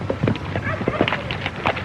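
Horses' hooves clip-clop in an irregular patter on the ground at a Western frontier scene, moderately near, with voices talking faintly in the background.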